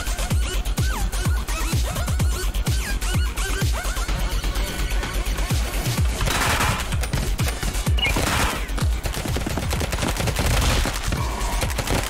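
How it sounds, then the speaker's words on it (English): Two Uzi submachine guns blaze in the Madness video game, a loud, continuous stream of sharp, rapid shots in a steady staccato rhythm that lasts throughout, with a few clattering impacts mixed in. "Two Uzis."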